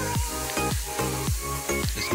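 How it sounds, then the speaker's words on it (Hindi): Masala paste frying in a pan for paneer butter masala, a steady loud sizzle with recurring stirring pulses about every half second, no voices. "तो चलिए दोस्तों अब हम इस मसाले को अच्छे से भून लेते हैं।"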